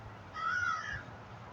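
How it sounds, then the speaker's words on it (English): Crows cawing outdoors near palm trees, a couple of drawn-out harsh calls in the middle of a quiet stretch, moderately close and fairly faint. "And Teddy and them birds"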